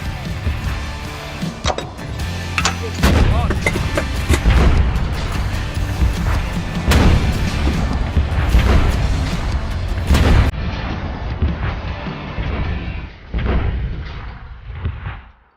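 Artillery guns firing during an exercise, a series of heavy booms and blasts over dense rumbling noise, loud and close, with sharp transients scattered throughout before the sound thins out.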